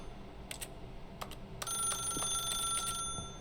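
A desk telephone rings inside The Stanley Parable, short electronic bell bursts repeating in a clear, close pattern over a quiet office room tone, with no voices.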